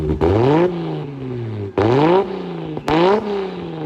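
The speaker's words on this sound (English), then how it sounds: "who's ready for some rev action?" A Toyota Supra engine revs hard three times, each burst climbing sharply in pitch before dropping back to a steady idle between pulls, loud and close with no talking.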